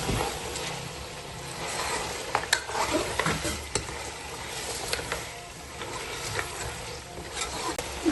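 A spoonful of fresh ginger paste frying in hot oil for tinda gosht, a continuous close sizzle with scraping stirring strokes and small clinks throughout, no talk.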